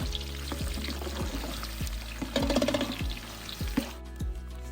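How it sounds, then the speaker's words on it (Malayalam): Loud bubbling sizzle of coconut frying in hot oil, with repeated scraping stirs and clinks of a utensil against the pan. "നമ്മൾ അരിഞ്ഞു വെച്ചിരിക്കുന്ന തേങ്ങ ഒരു മുക്കാൽ ഭാഗത്തോളം നമുക്ക് വറുത്തെടുക്കാം"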